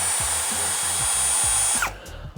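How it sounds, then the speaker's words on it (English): A cordless power tool undoes a bolt on the back of a solar inverter, a close, loud whirring with rapid rhythmic clicking that winds down and stops near the end, no talking. "So we'll have to untie the bolt and open it from the back."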